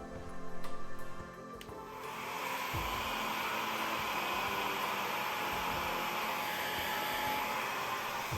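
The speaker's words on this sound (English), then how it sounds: "Hairdryer time!" A hair dryer blows a steady, close whooshing stream of air for several seconds to erase heat-erasable pen marks on fabric.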